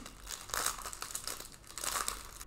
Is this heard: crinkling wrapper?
yes